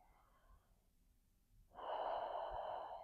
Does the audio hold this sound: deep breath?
yes